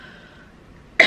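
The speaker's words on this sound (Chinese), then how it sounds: "不好意思，有点咳嗽。" A single sharp cough from a woman rises suddenly at the very end, after a quiet near-silent stretch.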